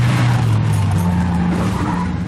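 Banger racing cars roar loudly in a continuous engine drone, with tyres skidding and squealing throughout.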